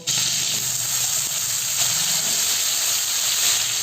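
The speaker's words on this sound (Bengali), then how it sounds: "এবার কড়াইতে সামান্য পরিমাণে তেল দিয়ে এখানে কেটে রাখা আলুটাও দিয়ে দেবো" Cut potatoes fry in a little oil in a wok, giving a dense, constant sizzling hiss at close range, steady and loud from start to finish without talk.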